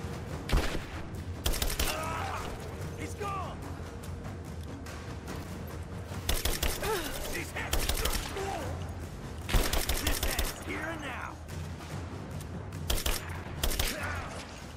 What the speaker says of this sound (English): Of course you're taking fire. I'm shooting at you.